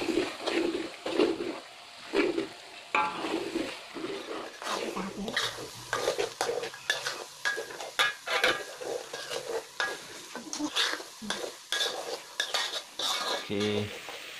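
Coconut milk without added water simmers for beef rendang while a utensil scrapes and stirs around the pot in steady, repeated strokes, with a soft sizzle underneath throughout.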